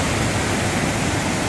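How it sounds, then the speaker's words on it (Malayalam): Monsoon-swollen Dudhsagar waterfall in Goa roars as a dense, steady wall of rushing water, loud and close, filling every moment without pause and with no voices over it. "ഇതൊക്കെ ഈ ഒഴുക്കുള്ള വെള്ളത്തിലാണ് നമ്മൾ കളിക്കുന്നത്."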